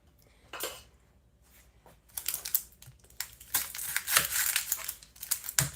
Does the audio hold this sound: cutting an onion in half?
yes